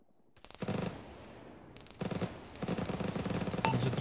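Gunfire in Arma 3: bursts of rapid automatic shots, a short volley, a pause with echo tail, then longer sustained firing, loud and close with a distant crack near the end.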